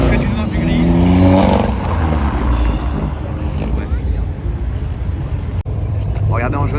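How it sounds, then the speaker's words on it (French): Sports cars, including GT3 models, pass on a track during a Sunday car meet: a steady roar of engines with a rising note as one goes by, buffeted by wind against the microphone. "les voitures qui passent, c'est les mêmes voitures que depuis 15 tours"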